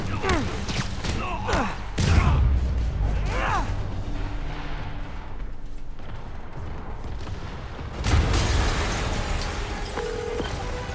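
A heavy explosion rumbles through Marvel's Spider-Man Remastered, a deep boom near the start and another blast later, set against game music and swooshing effects.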